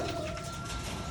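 Racing pigeons arriving back at the loft from a training flight, soft low cooing calls repeating close by over a steady background hiss.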